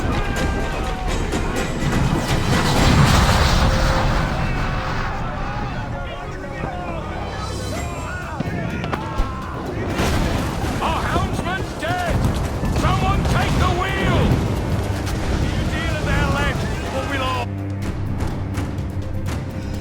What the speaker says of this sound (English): Firing cannons